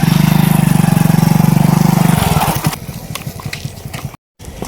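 A motorcycle engine runs with a loud, steady low throbbing putter that fades after about two seconds into rougher, quieter rumbling and knocks.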